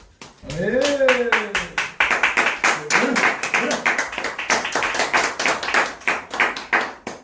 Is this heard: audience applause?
yes